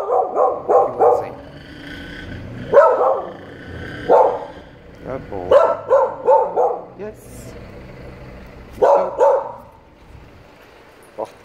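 Dogs bark repeatedly in clustered bursts, fairly close and loud, with short pauses between volleys.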